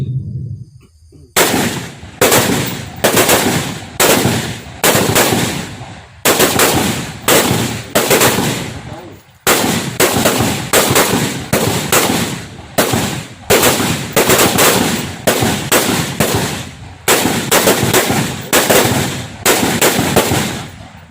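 M16A1 rifle firing full-auto at a shooting range, loud repeated bursts of rapid cracking shots with brief gaps between strings, close and dominant throughout.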